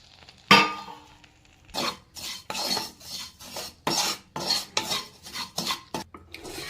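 Semiya kunafa is stirred in melted butter in a pan, giving a string of rhythmic scraping and rustling strokes, close and moderately loud, with no talk.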